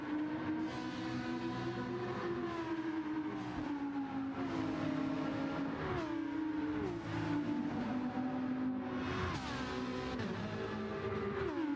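A Gran Turismo 7 race car engine howls steadily through a final lap, its pitch rising and falling with each upshift, downshift and corner in a continuous, loud drone with no voices over it.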